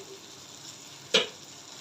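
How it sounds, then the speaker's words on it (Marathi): Onion and bell pepper sauté in a pan over a medium flame with a soft, steady sizzle, broken once by a single sharp clank of a utensil against the pan. "आता हे एक ते दोन मिनटं आपण थोडंसं मीडियम फ्लेमवर परतून घेऊया"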